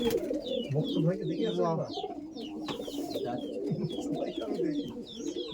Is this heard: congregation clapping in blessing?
no